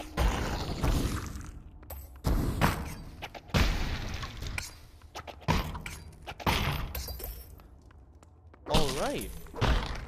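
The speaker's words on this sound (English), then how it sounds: "I'm gonna continue hitting my sword against walls." A sword striking dungeon walls in the VR game Ancient Dungeon, a series of sharp, separate impacts with crunching, breaking tails spaced a second or two apart, close and loud, with brief talk between hits.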